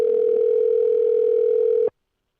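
Telephone dial tone heard while placing a call: a single steady, loud mid-pitched tone holding for about two seconds, then cutting off abruptly into silence.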